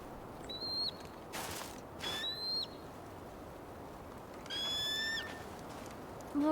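Eagle cries in the video game Tell Me Why: a few high, sliding screeches with faint harmonics, separated by gaps, over a steady windy outdoor ambience with no talk.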